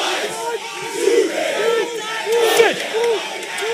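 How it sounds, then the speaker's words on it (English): A schoolboy rugby crowd at a King Edward VII versus Jeppe match chants and cheers in loud, rhythmic waves of many voices, rising and falling in repeated swells close by. "And now the crowd getting involved here."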